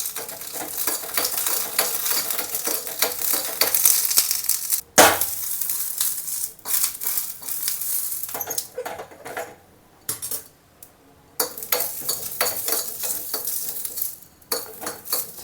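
Green chillies are roasted in a heavy-bottomed pan, with repeated close metal scraping and clinking of a spatula in irregular bursts, brief pauses between them and a faint sizzle underneath. No one speaks.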